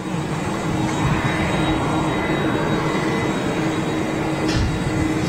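A KLM Boeing 737 taxiing toward a gate at Schiphol, a loud steady jet engine whine and roar that holds for several seconds without talk.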